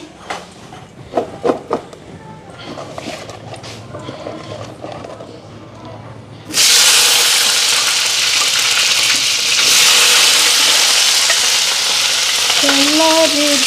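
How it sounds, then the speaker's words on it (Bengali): Cauliflower is dropped into hot oil after a cumin tempering. A few clattering utensil knocks come first, then a sudden loud, continuous close sizzle. A faint voice is heard near the end. "জিরা ফোড়ন দিলাম ফুলকপিটা এখন ফ্রাই করে নিই"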